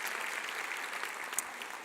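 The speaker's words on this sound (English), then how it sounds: "You can applaud for yourselves if you want." A graduating class at a dental school commencement breaks into sustained applause, a dense, even wash of many hands clapping in a large hall, with no talking.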